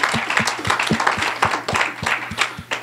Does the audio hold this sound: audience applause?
yes